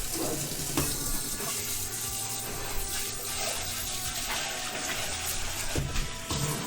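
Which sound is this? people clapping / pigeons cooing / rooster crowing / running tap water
running tap water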